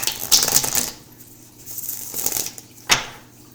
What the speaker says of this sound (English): people want to see the shuffling, so I will do it